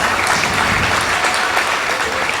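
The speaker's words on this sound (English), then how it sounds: "Please give her a round of applause." An audience breaks into steady, dense applause for the owner and proprietor of Tropical Escape, a loud, continuous wash of clapping with no voices over it.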